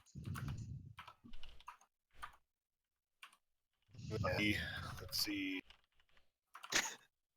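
Bursts of computer keyboard typing during an online planning call, short clicky runs separated by pauses, with people talking over parts of it.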